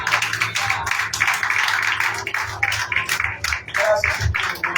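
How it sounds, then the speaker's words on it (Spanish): A church congregation claps together in steady, dense applause during a worship service. "Dale un fuerte aplauso"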